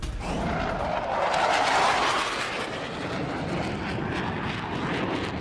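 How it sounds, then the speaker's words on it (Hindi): A US RC-135 reconnaissance aircraft flies past with a loud, steady engine roar that swells briefly and then settles into a continuous drone. "अमेरिकी टोही विमान ने उड़ान भरी है"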